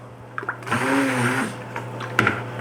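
An electric mixer whirs for about a second while blending soap oils, including shea butter, with activated charcoal, bracketed by a few clicks and handling knocks.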